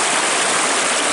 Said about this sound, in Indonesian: Kita akan turun ke sungai ya. Tuh airnya di sini